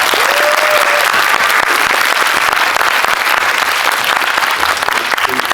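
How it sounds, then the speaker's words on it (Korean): Audience applause for film director Park Hoon-jung at a special screening Q&A in a Lotte Cinema auditorium, a dense, steady wash of clapping from a large crowd sustained throughout. "박훈정 감독님께 박수 한번 보내주세요"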